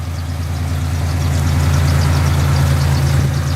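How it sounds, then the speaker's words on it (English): A 1971 Jeep CJ5 with a Dauntless V-6 idles smoothly and steadily, a loud, close, low rumbling hum with an even pulsing texture and no speech. "The motor is smooth. It could probably use some fresh fuel, but it still runs."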